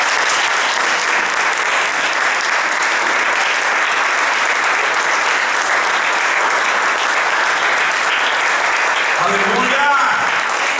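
A church congregation applauds in dense, steady clapping that fills the whole stretch, and a voice briefly rises over it near the end.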